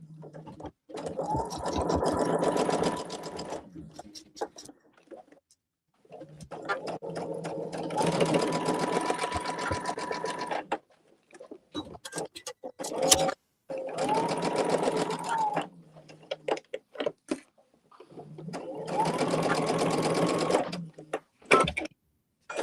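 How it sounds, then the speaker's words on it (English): Sewing machine stitching a quilt block in four distinct runs of steady whirring, separated by short pauses filled with small clicks and handling noises, close and clear. "I gotta get my thread underneath the presser foot here, and now I'm just gonna sew this."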